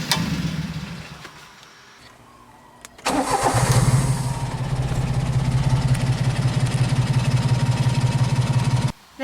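A kei truck engine cranks for a moment after a faint key click, catches and settles into a steady, fairly loud idle with a rough, even pulse. It runs for several seconds before cutting off abruptly.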